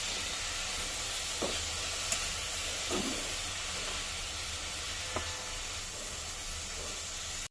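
Leafy greens (shak) fry in a pan with a faint steady sizzle and hiss, punctuated by a few soft stirring clicks and scrapes, heard close and quiet with no talk.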